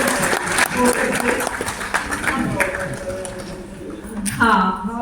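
Audience applause in a hall for Singh Sahib Giani Ranjit Singh at a vegetarian awareness event, dense clapping sustained throughout with voices mixed in beneath it.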